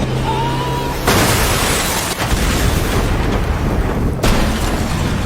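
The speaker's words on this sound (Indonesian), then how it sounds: "Sedangkan salah satu mobil yang masih melakukan pengejaran memaksa Sin untuk melakukan baku tembak" Gunfire and explosions from a shootout during a car chase in an action film: a loud, sustained roar of blasts with abrupt bursts near the one- and four-second marks, dense and continuous throughout, with no talk.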